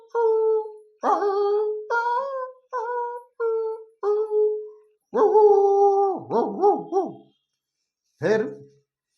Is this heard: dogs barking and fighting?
yes